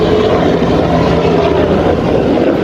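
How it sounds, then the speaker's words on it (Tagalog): A propeller airplane passes overhead, its engine a loud continuous drone with a steady hum that holds evenly throughout. "oh may aeroplano pa oh"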